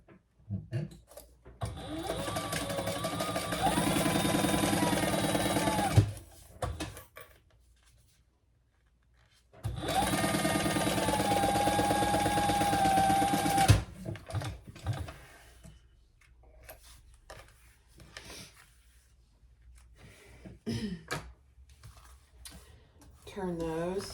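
A sewing machine stitches a long seam at stitch length 4 while making a crossbody bag, running in two steady bursts separated by a pause, close and clear, with some quiet handling noise around them.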